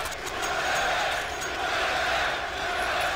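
A large crowd at a CS:GO major esports match in Boston chanting and roaring in a continuous, reverberant wash of voices, steady and loud with no break.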